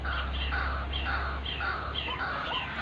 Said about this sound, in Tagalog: papatanugin muna natin ulit yung sounds ng pang palapit sa ibon